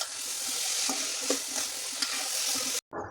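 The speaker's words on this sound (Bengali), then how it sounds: "নুডলসটা দিয়ে হালকা একটু মিশিয়ে নেব।" Boiled Maggi noodles are stirred into a sizzling fried masala, a continuous close frying hiss with a few soft scraping knocks, cutting out briefly near the end.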